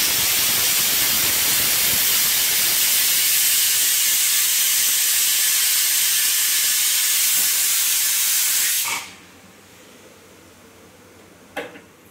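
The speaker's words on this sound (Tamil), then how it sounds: "ப்ரெஷர் ஃபுல்லாக ரிலீஸ் ஆகிடுச்சு." A pressure cooker on a stove, cooking vegetable biryani, vents steam in a loud, steady hiss for about nine seconds, then cuts off sharply, leaving a quiet room with a faint click near the end.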